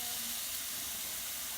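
Pork ribs searing over a campfire, a steady close hissing sizzle that holds even throughout the short stretch, no talk.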